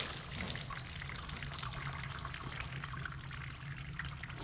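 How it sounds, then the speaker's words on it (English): Water running down a gold prospecting sluice outdoors on a cold winter day, a soft steady trickling wash that stays faint and even throughout. "I'm going to run a little bit of water down the sluice just because there's a little access."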